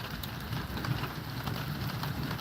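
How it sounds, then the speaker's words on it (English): Rain sets in at a lake house, a steady hiss of falling drops on surfaces with a low rumbling undertone throughout. "Now that the rain's coming in"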